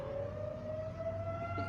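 Tornado civil defense siren during a scheduled test, a steady faint wailing tone heard at a distance over low background rumble, with no one speaking.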